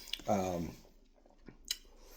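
Someone chews buttery, soft-crunchy toast from a Slim Chickens mac bowl meal, a short close bite and chew, with brief talk before.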